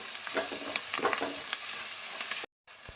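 Curry leaves frying in hot oil for a Telugu fish curry, giving a dense, steady crackling sizzle with scattered pops and stirring scrapes, cut by a brief silent gap near the end.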